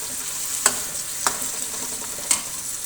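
Chicken with spices fries in a karahi with a constant crackling sizzle, broken by three distinct scraping stirs spaced evenly apart, with no talking.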